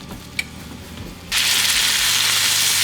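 Chicken pieces hit hot olive oil and butter in a pan and burst into a loud, steady sizzle after a brief quiet moment, the frying hiss then continuing strongly to the end.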